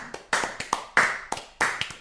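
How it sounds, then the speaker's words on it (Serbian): About half a dozen close, crisp hand claps land in a brief uneven burst, like a small studio applause with no voices. "Jedan aplauz za slušalce."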